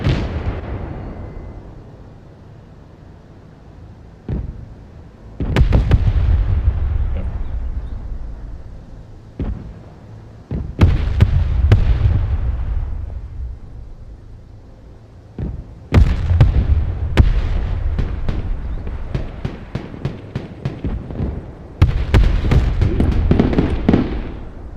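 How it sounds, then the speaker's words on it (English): Mortar artillery fire in the real-time tactics game Broken Arrow, repeated loud booming launches and impacts in clusters, some as rapid crackling volleys, with quieter rumbling gaps between, no talking. "I can just mortar them."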